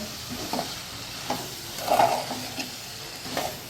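Ghevda beans, a quarter kilo, tipped into a hot pan and stirred, giving a continuous soft sizzle with occasional scraping strokes of the spoon.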